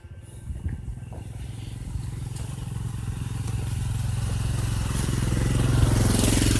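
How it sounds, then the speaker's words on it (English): A motorcycle engine approaches on a road in Yangana, Ecuador, growing steadily louder, its buzzing rumble building toward a close pass at the end. "Apparently motorcycles are a way that people get around"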